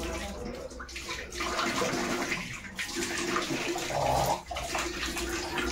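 Water runs steadily from a tap as someone washes their face, a loud, close, continuous rush with slight shifts as hands move through the stream.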